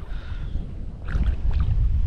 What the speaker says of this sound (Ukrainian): роздувся просто жорсткий вітер